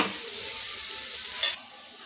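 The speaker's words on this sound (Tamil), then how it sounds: "சின்னதாக ஒரு தக்காளி ஒரு சின்ன துண்டு புளியை சேர்த்து வதக்கிக்கலாம்" Onion, tomato and tamarind sautéing in a pan for a spinach thokku, a soft steady sizzle with one quick scrape of a spoon midway, close and quiet with no talking.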